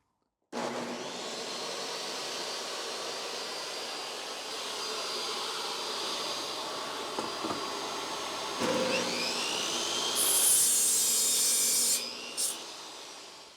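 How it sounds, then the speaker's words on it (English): A table saw and a chop saw run together in a workshop, a steady loud whine and hum that swells as the second saw spins up, then cuts off near the end. "I was running the table saw and the chop saw at the same time"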